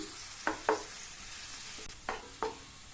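Sliced onions sizzle steadily in a hot pan while browning, with a few sharp stirring scrapes breaking through the frying noise; no talking.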